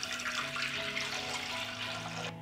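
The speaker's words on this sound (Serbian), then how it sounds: "Lonac je zapremine 6 litara i sipaću litar hladne vode." A litre of cold water poured into a 6-litre pressure cooker pot holding jars, a continuous rushing, splashing stream that stops abruptly near the end, no talking.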